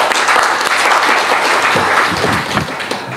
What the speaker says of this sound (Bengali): আপনাদের সবার জন্য আমরা সব একটা হাততালি দিই